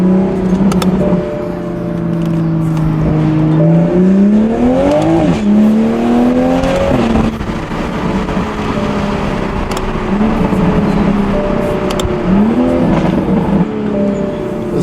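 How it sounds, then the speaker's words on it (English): A car engine revs loudly and repeatedly, its pitch climbing and dropping through several throttle blips over a steady running drone, with no voices. "This car sounds good, but it needs to be louder and it needs to be faster."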